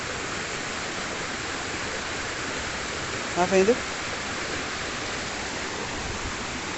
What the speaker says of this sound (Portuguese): A água tá forte. Hoje eu acho que não vai dar pra nem tomar banho, porque tá muito forte, ó.